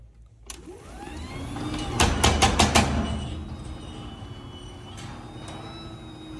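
Craftsman garage door opener running with a suspected broken internal gear, a sudden motor start followed by a rough mechanical whir with a burst of rapid clicking, then a steady drone.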